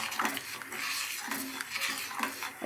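A thickening mixture is stirred in a cooking pot while it heats toward a boil, heard as soft, regular scraping strokes of a spoon against the pot, fairly quiet and close.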